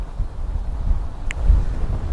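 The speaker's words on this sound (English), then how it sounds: "today is so windy" Wind buffets the microphone with low, rumbling gusts that swell and fade, plus a brief faint chirp partway through; no voices.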